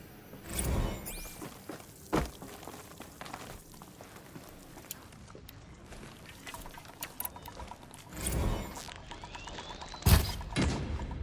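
Gunfire in the video game Horizon Zero Dawn: a few sharp, loud shots spaced several seconds apart, with a cluster near the end, over a low, busy game background.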